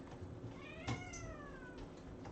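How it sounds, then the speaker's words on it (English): A cat behind a closed door meows once, muffled and fairly quiet, with a faint second cry trailing after in an otherwise still room. "think that's my cat on the other side of that door"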